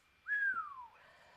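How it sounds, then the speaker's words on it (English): A single impressed whistle rises quickly, then slides steadily downward for about half a second, loud and close, with a faint background hum and no speech. "Sorry for the audio spike from my impressed whistling."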